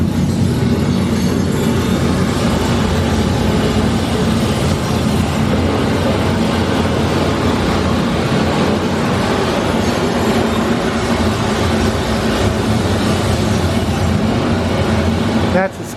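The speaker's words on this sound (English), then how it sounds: "In this room, they're going to run a simulation of what it might have been like when that sinkhole caved" A simulated sinkhole cave-in effect at the Corvette Museum in Bowling Green, Kentucky, filling the room with a continuous loud, dense rumbling roar that holds steady for the whole stretch.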